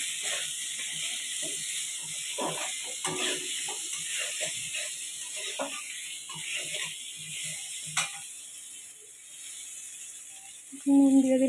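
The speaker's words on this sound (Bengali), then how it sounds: "আলুগুলো ভেজে নিচ্ছি।" Potatoes frying in a pan with salt for a fish curry, a steady faint sizzle and crackle with scattered small pops, heard alone throughout.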